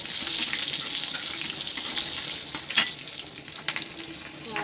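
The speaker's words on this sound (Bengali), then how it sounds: "দিয়ে দেবো আর একটু তেল, দিয়ে দেবো কালো জিরে ফোড়ন, দিয়ে দেবো কাঁচা লঙ্কা" Nigella seeds and green chillies hit hot oil for tempering a mustard fish curry, giving a steady bright sizzle with a few sharp crackles and pops near the middle and end.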